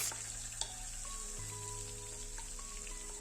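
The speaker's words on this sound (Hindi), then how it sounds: "इनको इस प्रकार से मिक्स करते हुए हमें हल्का सा कच्चापन चला जाए इतना से हमें पका लेना है।" Green chilli and grated ginger fry in a pan while preparing street-style ragda chaat, giving a steady, fairly quiet sizzle with one brief tap near the start and no voices.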